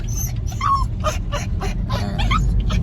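A pet dog shut in the back seat of a car whimpers and yips, several short high whines and yelps repeating in bursts over a low steady road rumble, close and fairly loud.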